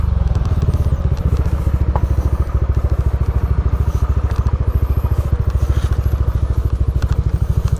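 A motorcycle engine idles close by at a moto camping spot near a waterfall in the Philippines, a loud steady rapid chugging pulse that runs unbroken from start to finish.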